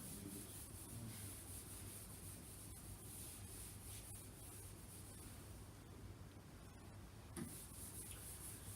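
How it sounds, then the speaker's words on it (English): Writing being rubbed out on a board during a lesson: continuous, even scrubbing and rubbing strokes for several seconds over a constant background hum, with a brief knock near the end. "No problem rubbing this out"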